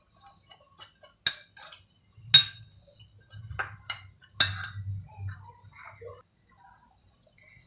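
A spoon clinks and taps sharply against a bowl a handful of times in a quiet kitchen while spices are mixed for stuffed tinda, with soft scraping between the knocks.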